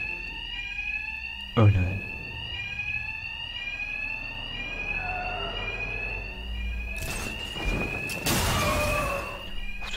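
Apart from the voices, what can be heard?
bank alarm ringing in video game Batman Arkham Knight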